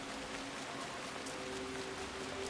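Steady rain in Assassin's Creed Shadows, a continuous even hiss of falling drops with a faint tonal hum underneath, heard alone at moderate level.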